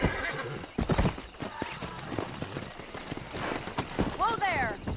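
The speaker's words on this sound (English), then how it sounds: "Let's see if we can't wrangle some horses." A horse being wrangled in the video game Red Dead Redemption gives a clear whinny near the end, with pounding hoofbeats earlier and a voice talking over the action.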